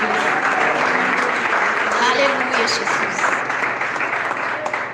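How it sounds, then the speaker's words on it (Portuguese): A church congregation claps in praise, a steady rhythmic patter filling the room while a preacher's voice calls out over it. "Mas palmas, glorifica o nome do Rei Jesus"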